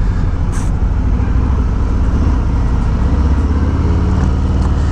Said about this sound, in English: And that 114 engine sound is very special.